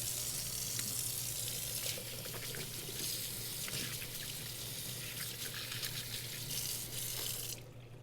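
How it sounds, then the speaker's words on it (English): A kitchen tap runs steadily while hands are washed, a soft constant splash with faint hiss, then it cuts off abruptly near the end. "I am gonna go ahead and wash my hands one more time"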